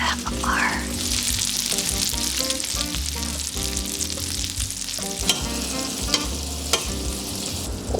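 Meatballs sear in avocado oil in a hot pan with a loud, continuous sizzle and crackle. Occasional clinks and scrapes of utensils sound against the pan, and there is no talking.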